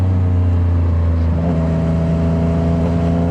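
A Yamaha MT-09 motorcycle engine revving at around 5,000 RPM, loud and close, a sustained steady drone with a slight rise in pitch midway and no voices.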